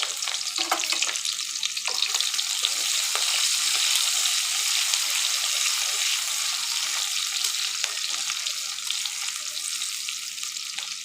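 Soaked onions land in hot oil with cumin seeds in a wok and sizzle loudly. The bright frying crackle is steady throughout, with faint stirring scrapes and no talk.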